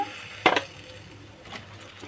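Ginger paste dropped into a pan of cooking mutton gives a brief burst of sizzle and stirring scrape, then fades to a faint simmer with a softer second scrape.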